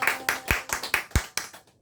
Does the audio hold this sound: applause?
yes